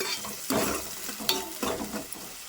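Onions frying in a pan for a cabbage kurma, with a steady close sizzle and scraping stir strokes recurring every second or so, no voices over it.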